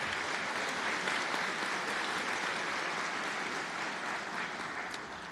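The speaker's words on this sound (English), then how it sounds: "Can we give them applause for the great music they're playing?" Steady audience applause at a university white coat ceremony, dense and sustained throughout with no voices standing out, fading slightly toward the end.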